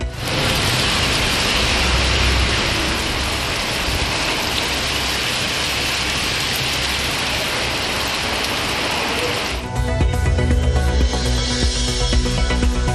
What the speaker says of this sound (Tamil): சிவகங்கை மாவட்டம் தேவக்கோட்டை மற்றும் சுற்றுவட்டார பகுதிகளில் பெய்த மழையால் குளுமையான சூழல்.